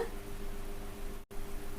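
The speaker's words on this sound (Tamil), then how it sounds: "இப்போ தண்ணி நல்லா கொதிக்க ஆரம்பிக்குதுங்க." Water with kozhukattai dumplings boiling in a pot, bubbling and churning steadily in a continuous close hiss-like roil that drops out for a split second before resuming.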